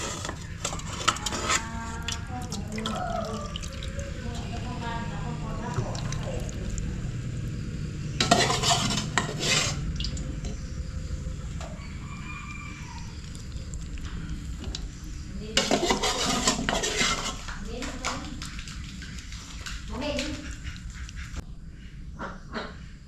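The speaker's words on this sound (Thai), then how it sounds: "เดี๋ยวตักแกงกบก่อนนะ" Frog curry being scooped from a pot, with ladle and utensil scrapes and clinks against cookware repeating throughout, and two louder clattering bursts standing out over a steady background.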